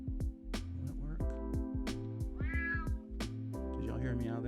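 A cat meow sound effect played over a live stream, several meows in quick succession with a music bed and voice running underneath.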